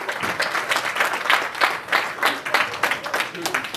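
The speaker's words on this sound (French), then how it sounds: "une bonne main d'applaudissement à notre staff qui, semaine après semaine, sont avec nous." An audience at a live wrestling show applauds, a dense, sustained burst of clapping filling the room, with voices mixed in under it.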